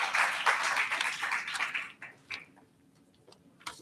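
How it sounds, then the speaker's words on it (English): Audience applause at a South Africa–Colombia forum, a dense burst of clapping for about two seconds that quickly thins into a few scattered claps. "Please give him a big round of applause."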